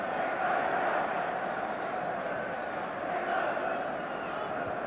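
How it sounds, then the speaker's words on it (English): A large football crowd at Wembley Stadium during an England v Northern Ireland match in 1982, a steady broad roar of cheering that holds evenly throughout, with no clear separate voices. "And the crowd enjoying the change in the English team's outlook."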